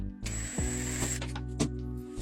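A power drill set to low torque works at a wall toggle anchor, whirring in short bursts with grinding, ratcheting clicks, close and fairly quiet, with no talking.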